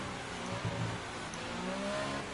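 A Formula 1 race car engine in the F1 2018 video game hums and revs steadily at the Abu Dhabi Grand Prix, a continuous mid-pitched drone with slight pitch rises, heard alone without talk.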